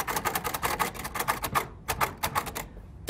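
Keys struck on a braille typewriter in quick irregular bursts of sharp mechanical clacks, close and clear, with short pauses between groups of strokes and no talking.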